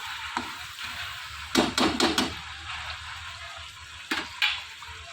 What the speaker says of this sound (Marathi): मसाला असं छान परतू द्यायचं तेल सुटूपर्यंत